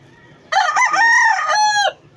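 A rooster from a farm where chickens of various colours are bred lets out one loud, close crow lasting about a second and a half, with no talking around it.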